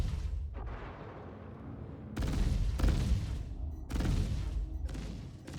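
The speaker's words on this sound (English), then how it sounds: "Just gonna use the smaller guns." Smaller guns on a Corsair ship in Star Citizen fire in several dense bursts, a steady low rumble between them and louder volleys near the middle and end, with no talking.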